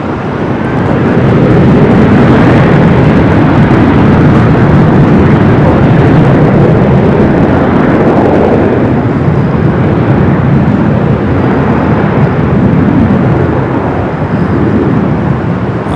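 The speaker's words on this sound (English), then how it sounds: "the United Flight 33 coming from Tokyo Narita. 787-9 Dreamliner" United Boeing 787-9 Dreamliner, a fairly new jet arriving from Tokyo at LAX, roars steadily and loudly throughout, a broad continuous engine rumble with no talk over it.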